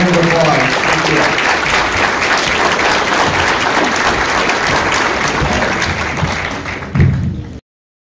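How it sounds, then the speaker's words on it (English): A forum audience applauds at a candidate event, dense steady clapping filling the room before tapering off with a final thump. "Thank you all in a round of applause."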